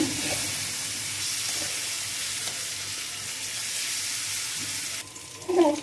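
Steady sizzle of ginger paste frying with salt and onions in a pan for several seconds, with a few soft stirring scrapes, then drops quieter near the end with a brief clatter.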